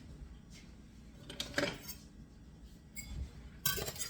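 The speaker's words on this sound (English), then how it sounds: "Okay, you're going to mix this up. You're going to need a whisk." Wire whisk clinking against a bowl while flour, salt, sugar and mustard are mixed for a macaroni salad dressing; light, irregular metallic taps and scrapes, fairly quiet, with a brighter clatter near the end.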